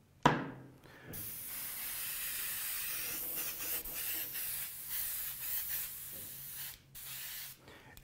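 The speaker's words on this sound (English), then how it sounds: "you can stipple with the airbrush, get some of those white spots on there" An airbrush spraying paint to stipple white spots during a relic'd paint job, a steady close hiss running almost without break for several seconds, with brief dips where the trigger is eased.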